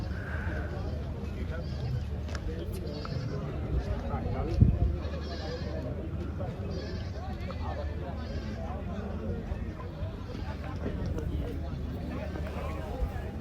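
Goats bleat intermittently amid the crowd at the Tungwali livestock market, the calls mixed under steady talking and general market bustle.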